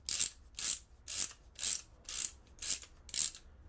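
A ratchet pipe cutter clicks through a pipe in a steady run of seven sharp bursts, close and loud, each about half a second apart.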